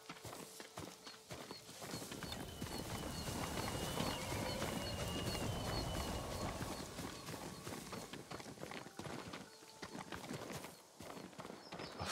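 A farm horse's hooves clip-clop steadily at a walking pace near the stables in the video game Ghost of Tsushima, close and clear, with faint ambient sounds in the background and no talking.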